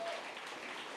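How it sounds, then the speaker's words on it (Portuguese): Brief burst of audience applause at a panel debate on rebuilding cities, a steady wash of clapping from a seated crowd lasting about a second. "Uma salva de palmas para a Mariana"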